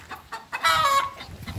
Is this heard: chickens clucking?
yes